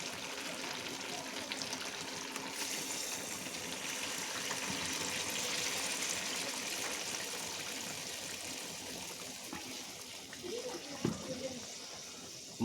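Water runs steadily and gently for several seconds during home cooking of a Bengali chicken heart and gizzard dish, a soft continuous flow with faint clinks near the end.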